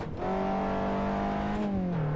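A Vauxhall VX220 (Opel Speedster) engine in Assetto Corsa drones at a steady, held pitch, loud and close, then dips slightly lower near the end as the revs ease.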